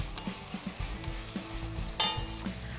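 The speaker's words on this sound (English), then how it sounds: "So, 1 onion into the pot, give it a little stir." A single onion stirred in a pot as the base of a tomato marinara sauce, with a few soft scraping and clacking stirs over a low, steady sizzle, close and moderately quiet, no talking.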